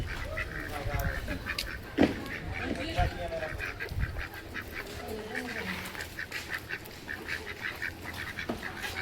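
Ducks quack repeatedly in a busy chorus nearby at a dairy farm, with some honking calls and people talking in the background.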